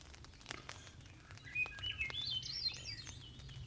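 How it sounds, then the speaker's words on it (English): Birds chirp and trill outdoors around a canoe-trip campsite, a series of bright warbling calls at moderate distance over soft patter and low background noise, with no talk. "Birds are still singing though."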